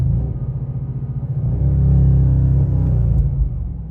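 An Audi S6/S7 engine holds high revs on launch control at full throttle, a loud, steady deep rumble with a pulsing throb that rises slightly and sustains throughout.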